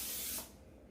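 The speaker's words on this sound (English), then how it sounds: "So I'm just gonna use some spray" Cooking spray hisses onto a bread loaf pan to grease it: one short, loud, close burst that cuts off sharply partway through, leaving quiet room tone.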